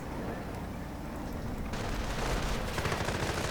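Gunfire in a tank battle video game, with shots striking and bouncing off a Panther's sloped frontal armor, a dense continuous rattle of rounds and impacts that grows louder partway through.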